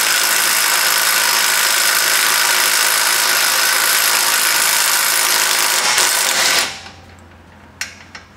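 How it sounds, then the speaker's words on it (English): A 24 millimeter socket spins loose nuts off during spring installation on a 2016 Camaro SS, making a loud, steady mechanical whir for several seconds that then cuts off, followed by a couple of faint clanks. "we'll take our 24 millimeter socket. And pull them the rest of the way off."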